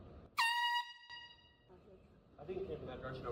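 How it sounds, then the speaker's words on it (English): Air horn blasted in a library as a prank: one loud, piercing blast with a shorter second burst, then a room murmur and voices talking afterward. "Idiot TikToker blows air horn in the library for a prank"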